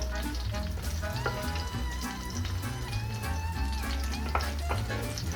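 A seafood and fish stew with parsley gets a thorough stir in the pot, with a steady simmering sizzle and soft scraping and clinking running continuously throughout.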